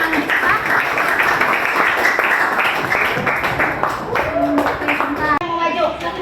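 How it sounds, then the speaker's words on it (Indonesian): A classroom group claps for presenting students, a busy patter of hands running throughout while voices talk over it and continue as the clapping thins out. "jadi boleh kasih tepuk tangan buat Bawa sama Anggita"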